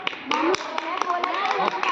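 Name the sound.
children clapping in classroom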